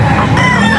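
A rooster crows loudly and close at a pet market in Angeles, one continuous strained call filling the short moment with no talking.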